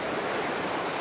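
Continuous rushing surf of ocean waves eroding the coast at Aceh Singkil, a dense, steady wash of noise with no break.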